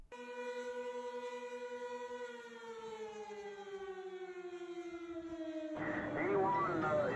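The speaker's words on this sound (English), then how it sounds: "the tornado sirens for Wichita Falls are already going off." Wichita Falls tornado sirens wail steadily during the 1979 outbreak, pitch slowly falling, and a loud broadband rush joins near the end.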